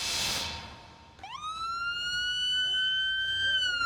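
After a short burst of noise, an emergency vehicle siren starts up with a rising whoop, then holds a loud steady wail close by, at a National Night Out community event.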